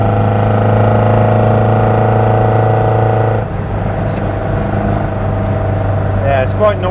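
A Mk1 Ford Escort automatic drives along a road, with a steady loud engine drone and road rumble inside the cabin, the pitch shifting midway and a voice faintly heard near the end.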